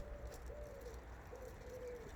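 A pigeon or dove cooing in a garden on a cold late-winter day near spring, soft repeated low coos drifting over a quiet outdoor rumble.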